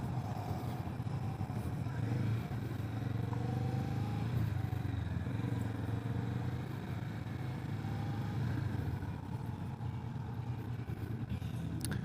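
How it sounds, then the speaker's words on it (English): A 2022 Kawasaki Vulcan S 650 ABS on a demo ride, its parallel-twin engine droning steadily under wind rush, the tone shifting slightly as the bike moves along, fairly distant and with no voices over it. "So, a Kawasaki Vulcan S 650. It's the same engine that's in the Ninja and the Versus 650"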